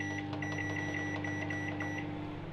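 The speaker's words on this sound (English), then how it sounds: "2 pieces of cod straight in the microwave" A microwave oven heating two pieces of cod gives a steady electrical hum with a buzzing tone, plus a few faint intermittent clicks, close and continuous for a couple of seconds.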